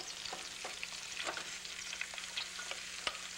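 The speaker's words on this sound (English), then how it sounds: "We'll just whack part of them in for now, get those sizzling away." Onions sizzle in a frying pan with a constant crackling fry, broken by sharp pops and the scrape of stirring, and no voices.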